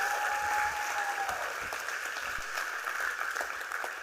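A crowd claps continuously at a youth town hall, a steady wash of applause with some cheering and a held tone early on, filling the room throughout.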